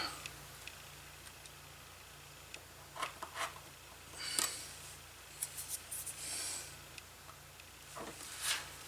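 A blade trimming the leather inner body piece of a four-card vertical wallet, with quiet scattered snips and scraping cuts, a few sharper clicks, all faint and close with a low steady hum behind.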